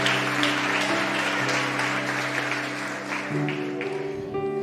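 A church congregation applauds during a revival service, a continuous mass of clapping over sustained organ or keyboard chords that shift partway through, the clapping thinning slightly near the end.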